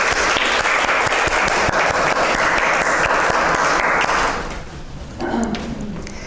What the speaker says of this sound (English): Let's give Dorothy and Jack another round of applause